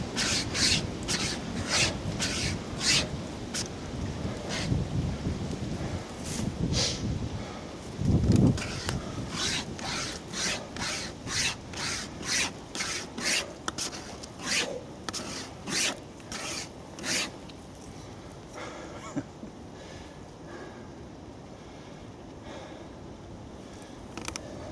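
A survival wire pocket saw cuts through wood in a long run of close, rhythmic rasping strokes, each back-and-forth pull giving a gritty scrape, with a brief heavier thump partway through.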